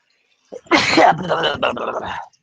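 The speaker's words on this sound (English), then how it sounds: "Sneeze." One loud, close sneeze with a sharp intake leading into a forceful burst, then silence.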